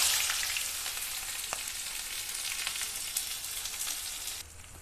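Onions and whole spices sizzling in hot oil in a pan, a steady bright crackle with a few sharp pops and light stirring, close and fairly faint, with no talking.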